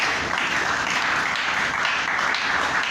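A church congregation applauds together during a worship service, a dense, steady wash of clapping held at an even level throughout with no voices standing out.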